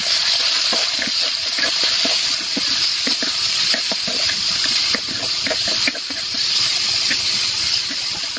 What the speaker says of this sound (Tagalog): So ngayon dol, mag-add man tayo tayong tubig,